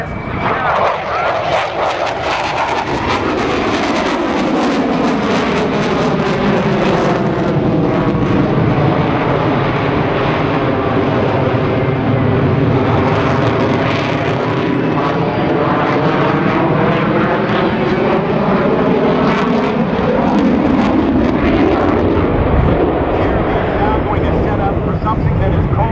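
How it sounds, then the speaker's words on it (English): A US Navy F/A-18 Hornet jet roars past during a pitch rate demonstration, its loud, sustained engine noise sweeping through with a pronounced pitch shift as it passes, while an announcer talks over the din. "Coming in from the right, the pitch rate demonstration. Your United States Navy's FA-18 Hornet"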